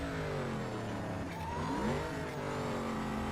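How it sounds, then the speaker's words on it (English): Supercharged car engine from the racing game Need For Speed Carbon, upgraded, with a steady high whine over a droning engine that rises in pitch midway as it revs, loud and continuous with no talk. "I love the sound of the supercharger and everything when you do the when you do all the upgrades"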